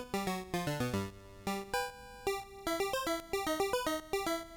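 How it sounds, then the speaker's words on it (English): Cirrus Retro chiptune with square 1 and square 2 channels playing together, bright buzzy square-wave notes in quick staccato bursts, a lower line stepping under a higher harmony part, steady and alone at moderate volume. "if you put square 1 and square 2 together,"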